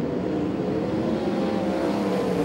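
Sprint cars race at Valvoline Raceway during the Scott Darley Sprintcar Classic, a continuous loud engine roar of several cars together, broad and steady without distinct pass-bys, with no voices over it.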